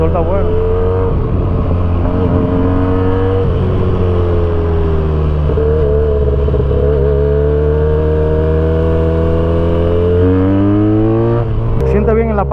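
Benelli 302S motorcycle engine running steadily with rising revs under acceleration, a loud close drone that holds throughout while a rider talks over it.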